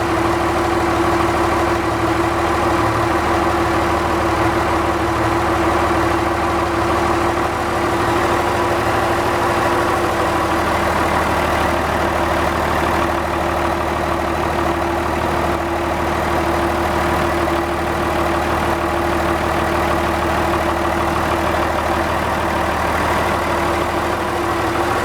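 An engine idles evenly, a continuous low hum with a steady tonal drone that holds unchanged for the whole stretch, loud and close with no talking.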